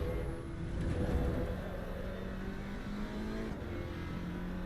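Engine of an Alpine A110 race car lapping Suzuka in the racing game AC EVO, a steady loud drone with rising and falling revs and a brief surge early on, continuous throughout.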